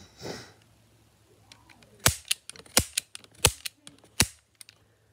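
A toy cap gun fires about six sharp, loud cracks in an uneven sequence, mixed with fainter clicks and handling noises nearby in a quiet room.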